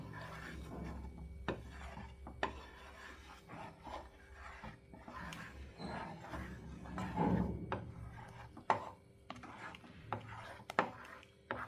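Milk reducing into khoa is stirred in a pan over a low flame, giving quiet scraping and rubbing strokes with occasional light knocks of the spoon against the pan, close and faint.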